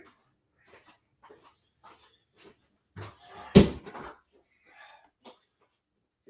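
A door is shut once with a sharp, close slam partway through, set among faint scattered household knocks and rustles in a quiet room.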